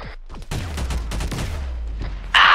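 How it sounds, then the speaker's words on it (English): Rapid machine gun fire in the ARMA 3 Half-Life game, with dense overlapping bursts of shots and booming low echoes for about two seconds, ending in a loud harsh blast. "They got machine guns!"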